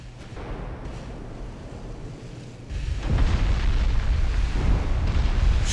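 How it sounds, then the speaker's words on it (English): A high explosive shell strikes a ship in a naval combat video game: steady rumbling background, then a loud broadband blast about halfway through that swells into a sustained, roaring explosion. "High explosive shell ricocheting off the deck"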